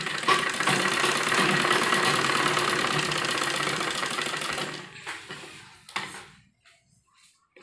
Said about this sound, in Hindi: यहाँ पर सिलाई लगाएंगे